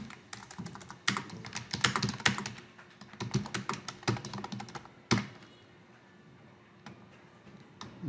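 Rapid typing on a computer keyboard, with close, crisp key clicks in uneven bursts and a few heavier strikes, easing into sparse taps near the end.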